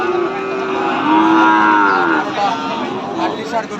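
Thin, bony cows moo at the Raniganj cattle market, a loud close call rising and falling over several seconds, with another lower moo overlapping amid faint background crowd noise.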